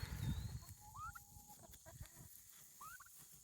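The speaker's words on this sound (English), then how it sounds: "These are my new baby turkeys." Baby turkeys outdoors on a homestead give a few faint, high peeping chirps, soft and scattered among other farm birds.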